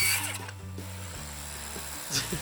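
A power tool tacks down wood framing on a mountain job site: a loud whirring motor bursts with changing pitch, then a sharp hit near the end, close and alone without talk.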